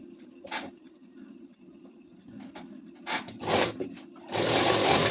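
A sewing machine stitches along the folded neckline of a ladies suit in short, uneven bursts of close, scratchy mechanical noise that grow louder and longer toward the end, over a low steady hum.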